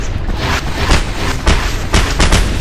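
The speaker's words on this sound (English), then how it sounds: "Why do these videos always end up with just explosions everywhere?" Repeated booming explosions in the Just Cause 2 video game, loud, close and overlapping in quick succession with heavy low rumble and no talking.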